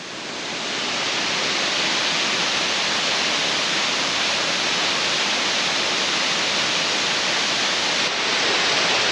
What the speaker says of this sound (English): Most incredible waterfall that I've ever seen.